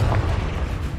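A Confringo fire spell from the video game Hogwarts Legacy blasts with a loud, deep, sustained rumble that fills the whole moment without letup.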